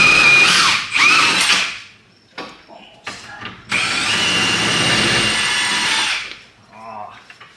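A car's wheel nuts being worked with an impact wrench, heard as loud, close, buzzing bursts, a short one first and then a longer sustained run, with speech between the bursts.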